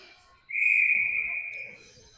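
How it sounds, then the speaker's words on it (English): A referee's whistle at a girls' ice hockey game gives one sustained, piercing blast of about a second, clear and fairly close, then fades into faint arena ambience. "We'll get a whistle."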